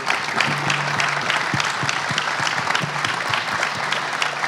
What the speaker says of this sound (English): Give yourselves a round of applause, will you?